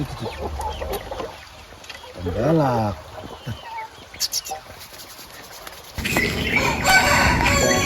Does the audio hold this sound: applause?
no